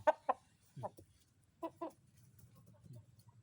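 Thai chickens give short soft clucks and low throaty calls, several separate bursts close by over a quiet background.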